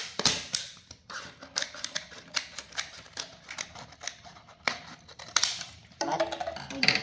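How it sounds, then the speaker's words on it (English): Plastic is cut by hand for a homemade PVC firecracker, giving a close run of sharp clicks and snips in an irregular rhythm with short pauses, with a rougher scraping burst near the end. "So we're just gonna cut some plastic."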